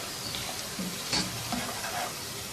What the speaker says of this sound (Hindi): प्याज को इतनी देर तक फ्राई करेंगे कि ये गोल्डन ब्राउन हो जाए।